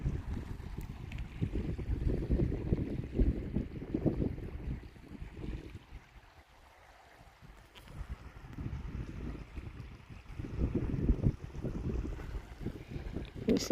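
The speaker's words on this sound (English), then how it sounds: "I'm really enjoying just the sound of the ocean." Ocean water and steady wind at the shore on a calm day, a continuous low rushing wash with gusty wind buffeting the microphone, easing briefly midway before swelling again.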